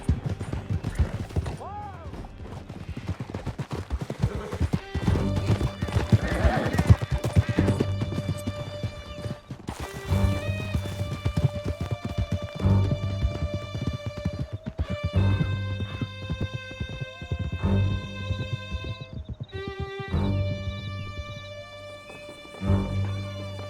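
Horses gallop in Red Dead Redemption 2 with a steady rapid clip-clop of hooves, set against game music, occasional crashes and bursts of gunfire, while voices speak over the action.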